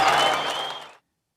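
Applause from a virtual audience during a COVID-19 Peer Hub meeting, a steady burst of clapping that fades briefly and then cuts off abruptly into silence.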